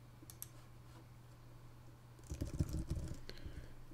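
Fingers tap a computer keyboard in a quiet room, a few faint clicks early on, then a short, denser burst of keystrokes over a low steady hum.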